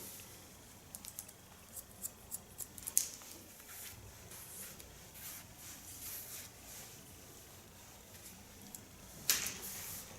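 Faint, quick snips of scissor blades closing through long, strong hair, a cluster of crisp clicks early on and another louder snip later, very close.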